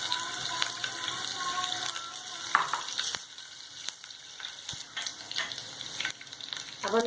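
Green chillies hit hot oil in a pan for Schezwan fried rice, giving a soft, steady sizzle with a few faint clicks and clatters, fairly quiet throughout.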